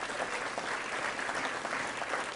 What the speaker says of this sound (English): See how one guy started clapping?